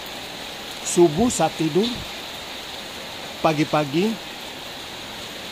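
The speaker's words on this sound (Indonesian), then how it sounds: "Hujan-hujan di sore hari." Afternoon rain falling as a steady, soft hiss in the background while someone speaks over it in two short bursts.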